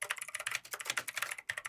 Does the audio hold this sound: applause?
no